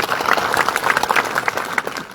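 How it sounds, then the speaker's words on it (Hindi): An audience claps in welcome for Prem ji at a public address, a dense, continuous burst of applause from a crowd that stays steady for the whole stretch, with little else audible. "एक बार आप प्रेम जी के लिए तालियां बजा के स्वागत करो"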